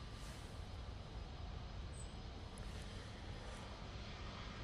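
An EasyJet jet roaring on takeoff at Manchester Airport in wet, windy weather: a steady, broad, loud engine rumble that holds even throughout, with no voices.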